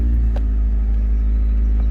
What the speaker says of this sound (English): And listen to the engine.